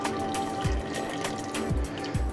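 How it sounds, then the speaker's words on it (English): Hot water poured from a kettle into a pot of peeled potatoes, a close trickling pour with a few hollow glugging splashes at irregular intervals. "I'm gonna add a little bit more hot water just so the potatoes are covered"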